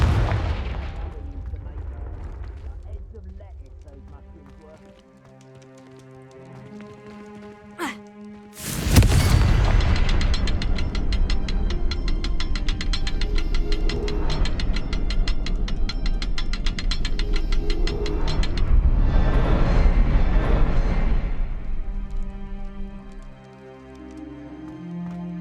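Confringo explosive spells fired in Hogwarts Legacy, a quiet stretch followed by a sharp crack near nine seconds, then a long, loud roaring blast of crackling fire and debris that swells again before fading.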